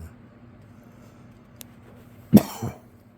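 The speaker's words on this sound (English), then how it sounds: "But I do get a cough once in a while." A single close, sharp cough followed by a softer second one, in an otherwise quiet room.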